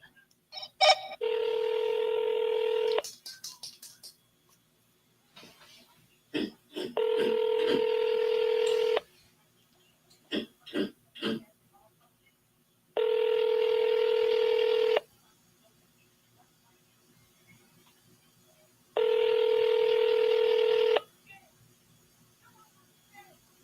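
Telephone call to a motivated seller: a short burst of keypad dial tones, then four evenly spaced ringback tones, each about two seconds long with long silent gaps, plus a few faint clicks between rings.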